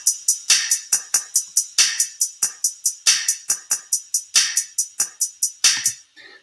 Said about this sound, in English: So that's an example of a beat that's in 3